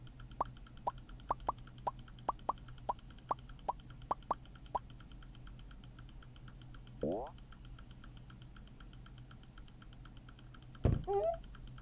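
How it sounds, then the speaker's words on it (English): Computer mouse clicks sound as a quick series of sharp, evenly spaced taps, followed by a few scattered faint sounds over a quiet hum. "I'm sorry if you just hear constant mouse clicking."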